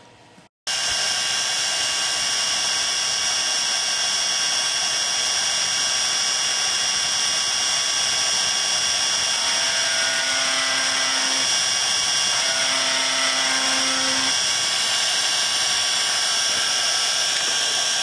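A power tool grinds away the metal casing of a Seek Thermal camera with a loud, continuous high-pitched whir that shifts pitch briefly as it bites into the metal, with no speech.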